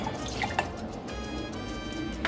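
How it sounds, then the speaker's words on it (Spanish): Half a cup of water poured into a small cooking pot, a steady trickling splash with a few drips, close and moderately loud with no talking. "Por acá tenemos una ollita y le voy a agregar media taza de agua."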